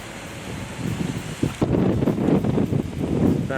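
Wind gusting across an outdoor university campus in Chapel Hill, a steady broadband rush that swells louder partway through, with rustling and buffeting against the microphone and no talking.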